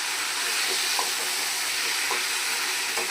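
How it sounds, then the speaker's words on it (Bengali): Rohu fish heads fry in a pan for a moong dal dish, giving a loud, steady, close sizzling hiss with a few faint stirring knocks. "মাছের মাথাগুলো দিয়ে কষিয়ে তারপর আমি ডালটা ঢেলে দেবো"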